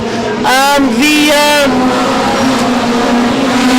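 Midget race cars race at Tygerberg Raceway, their engines screaming close and loud with rising and falling revs as they come past, while a commentator talks over them.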